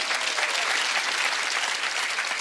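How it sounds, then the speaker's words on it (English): Comedy club audience breaking into dense, steady applause, a continuous wash of many hands clapping at once, fairly loud and filling the room with no voices over it. "Applaud if you do agree with it."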